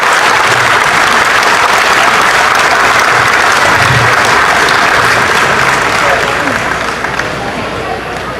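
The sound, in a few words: audience applause at a county fair show ring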